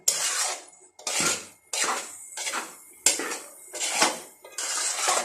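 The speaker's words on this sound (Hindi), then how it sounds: "बस हल्की आंच पे हमने इसकी भुनाई करनी है।" A spoon scrapes and clanks against a pan while carrot halwa is stirred and roasted, in about six separate rhythmic strokes, close and moderately quiet with no speech.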